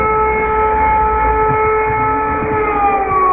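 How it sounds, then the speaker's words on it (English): A loud civil defense air raid siren wails steadily throughout in Mykolaiv, Ukraine, its tone drifting slightly, with a low rumble beneath. "Another air raid siren."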